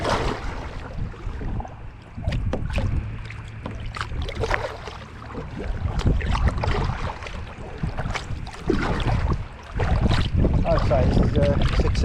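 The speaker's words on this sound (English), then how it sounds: "A bit of a paddle." Paddling a Pryml Spartan Fire Fisher fishing kayak on open water: splashing paddle strokes and water slapping against the hull, with gusty wind noise on the microphone and occasional talk.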